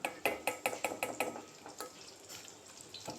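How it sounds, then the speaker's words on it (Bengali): Eggplant slices fry in a pan of hot oil for a fish-head ghata dish, with a crisp sizzle and a quick run of sharp taps from stirring or turning early on, then a softer, steady crackle. "তার সাথে এখানে বেগুন ভাজি করে নিচ্ছি"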